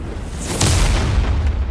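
A grenade explodes in the video game Bleach Rebirth of Souls, a loud, deep boom that swells and rumbles on heavily for over a second.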